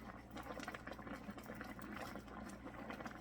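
Water boils in an electric hot pot with quick, irregular bubbling and popping, close up but faint, alongside a low steady hum and no talking.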